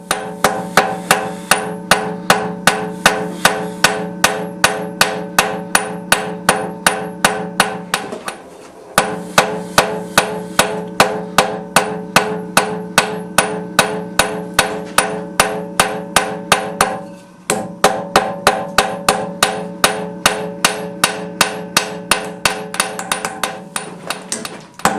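A blacksmith hammers hot iron while fullering the butterfly section of a hinge, steady rapid ringing blows repeating close and loud, broken by two brief pauses.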